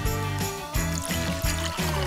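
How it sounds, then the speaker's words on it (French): Water pours into a bottle in short repeated bursts, a close gurgling trickle with the pitch climbing as the bottle fills, no voices. "Je vais remettre un peu d'eau dedans. Testons mes incroyables capacités à verser de l'eau."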